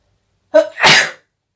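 One close, loud sneeze: a short voiced intake followed by a sharp, breathy burst, then silence.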